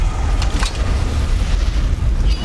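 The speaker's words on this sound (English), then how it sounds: "he's setting fire to the building" A building set ablaze by a fire spell in Blade and Sorcery roars with a loud, continuous deep rumble and crackling, thudding bursts throughout.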